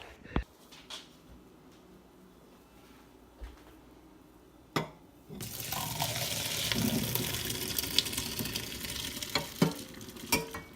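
Cooked macaroni noodles are strained, with a few sharp clanks of a pot before water pours out in a loud, steady rushing splash that continues to the end, punctuated by further knocks.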